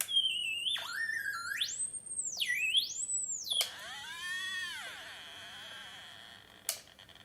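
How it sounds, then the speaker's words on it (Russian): A small DIY synthesizer with a built-in photocell bends its pitch in sweeping chirpy tones, gliding up and down in arcs, then a buzzy harmonic swoop and a sharp click near the end. "Это такой маленький синтезатор, в котором встроен фотоэлемент, и он привязан к питчу."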